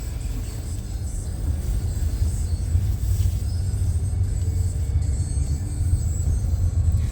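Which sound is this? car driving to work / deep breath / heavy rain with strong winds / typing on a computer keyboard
car driving to work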